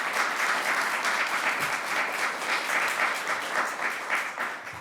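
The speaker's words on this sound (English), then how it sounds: "Let's give them a round of applause." A round of applause from an audience at a New York governor's bill event, steady and sustained clapping from many hands that carries on evenly for several seconds with no talking.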